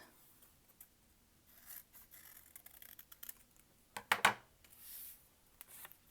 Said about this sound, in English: So actually I'm gonna cut this in two, fold it over, and cut out some leaves.